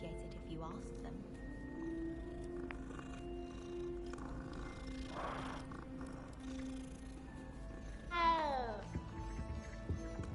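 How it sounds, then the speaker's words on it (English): Several cats in the Hogwarts Legacy video game meow softly over a steady, low game ambience, with one sharper, rising meow near the end. "Oh, so many cats here."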